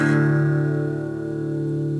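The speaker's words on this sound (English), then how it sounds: "it's just going to be open on the bottom 3 strings and play that once" One strum across the open bottom three strings of an electric guitar, from a song, ringing close and sustained while it slowly fades, with no other sound.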